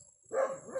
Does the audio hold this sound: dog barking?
yes